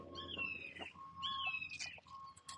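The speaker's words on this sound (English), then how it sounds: "I can hear a couple of hawks hovering over my head. One hawk and two little birds." Small birds chirping and whistling in short bright calls over a quiet morning city background after rain, two bursts of song with a hawk among them, fairly close and clear.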